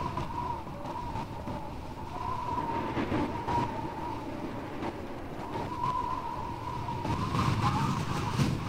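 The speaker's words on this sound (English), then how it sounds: "remember to watch out for the train" A train passes in the Garry's Mod video game as a steady, loud rolling rumble with a sustained metallic hum and occasional clacks, continuing without a break.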